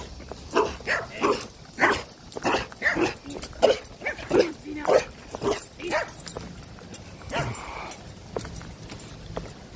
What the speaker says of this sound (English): Dog wants to fuck me up.